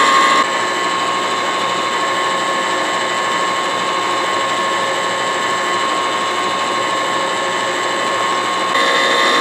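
A homemade ice cream maker churns chocolate mint ice cream with chocolate chips added, its motor and paddle giving a steady loud mechanical whirring drone, unbroken for the whole stretch with no voices.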